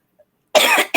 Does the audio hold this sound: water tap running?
no